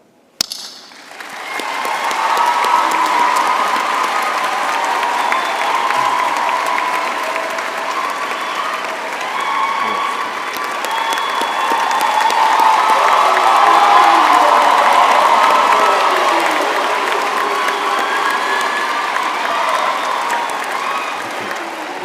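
Audience at a law faculty graduation ceremony applauding and cheering, sustained loud clapping from a large hall crowd that swells in the middle and continues throughout.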